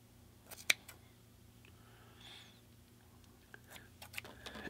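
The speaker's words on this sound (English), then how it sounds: "And you're to cut the loops." Scissors snip yarn loops on a handmade pom pom rug, with a few sharp, quiet cuts spaced irregularly over soft background hiss.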